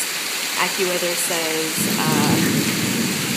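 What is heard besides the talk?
heavy tropical rain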